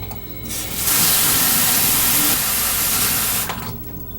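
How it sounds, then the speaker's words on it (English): Tap water gushes loudly into a kitchen sink during handwashing, a close broadband rush that swells in for about three seconds and then cuts off, with no speech. "wash my hands again."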